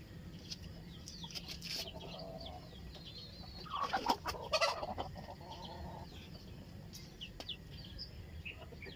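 Native chickens, some with colds, cluck and call intermittently over a steady outdoor background, with a louder burst of clucking partway through.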